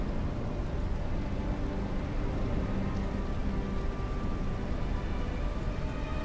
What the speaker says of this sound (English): The rain is crazy.